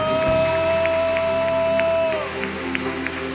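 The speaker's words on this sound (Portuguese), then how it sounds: "Você pode dar um aplauso bem forte a esse Deus maravilhoso." Congregation applauding in a church service, a steady wash of clapping under a sustained organ or keyboard tone, fairly close and moderately loud, thinning slightly toward the end.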